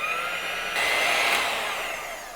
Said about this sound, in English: Now we'll hit this with the hand mixer for just a little bit to get it nice and incorporated